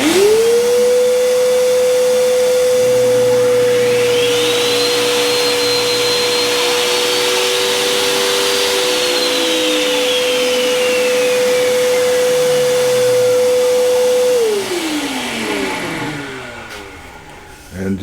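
Jointer cleaning up the edge of a wood strip for an edge grain cutting board: a loud motor whine spins up, cuts steadily for about twelve seconds with a rising rush as wood passes, then winds down.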